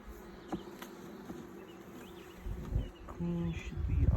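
Italian honey bees buzzing around an opened hive during an inspection, a steady close hum with occasional louder passes as frames are handled.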